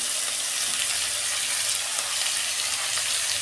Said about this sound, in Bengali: নুন ছাড়া আমি হালকা করে ভেজে নেব।